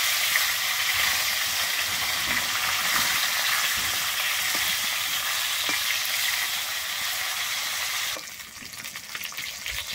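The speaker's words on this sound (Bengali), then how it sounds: "হালকা করেই ভেজে নেব।" Fish fries lightly in a pan with a steady, close hiss and crackle of sizzling oil, continuous for several seconds before easing slightly near the end.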